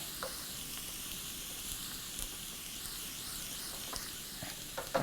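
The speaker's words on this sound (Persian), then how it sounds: "سیر نباید زیاد سرخ بشه و اینکه تلخ میشه" Garlic sizzles quietly in a pan while cooking for Iranian kashk-e bademjan, a soft, steady hiss with small crackles.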